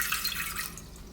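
Water pours into a pot for cooking rice, a soft steady trickle and splash that stays faint and close with no voices over it.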